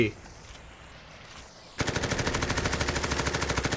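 Rapid, evenly spaced bursts of Winslow SMG fire in the shooter game Blitz Brigade, loud and close, start abruptly after a quieter stretch of game ambience and rattle on steadily to the end.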